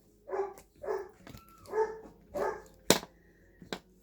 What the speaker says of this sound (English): My dog is barking in the other room.